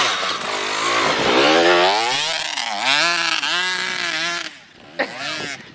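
A KTM 85 two-stroke dirt bike revs hard and close, its buzzing engine note rising and falling through several throttle blips before dropping off, then a short burst.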